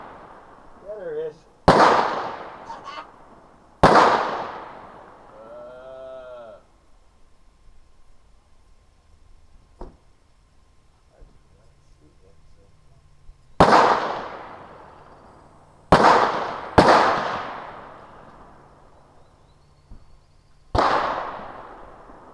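Rifle gunshots at a 200-yard shooting range crack out one at a time, loud and close with sharp attacks and lingering decay, six or so widely spaced blasts separated by quieter gaps.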